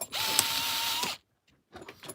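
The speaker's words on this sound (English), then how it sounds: "I'm just getting this bolt through the rod end and then onto the other side" Bolt being driven through a rod end while fitting a 3D-printed cantilever kit to a TRX4 RC crawler: about a second of close, whirring, mechanical turning, then quiet and a few faint handling clicks.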